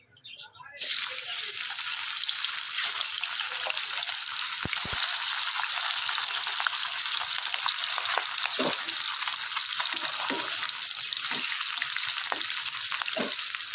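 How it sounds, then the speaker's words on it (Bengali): Fish frying in hot oil on a village kitchen stove, a loud, steady broadband sizzle that starts abruptly and runs on unbroken, with occasional faint clicks and scrapes in the pan. "চলো মাছটা ভাজা হোক।"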